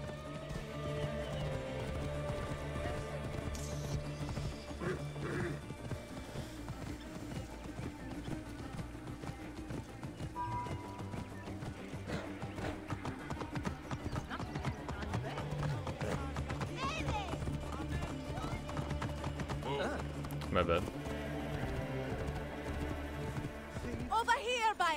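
Steady hoof clip-clops of a horse in a video game, under continuous talking and background music, a dense, busy mix that stays loud throughout.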